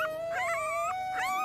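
Newborn puppies whimper and whine in thin, high cries that rise and fall in overlapping wavering tones, close and steady, with no talk.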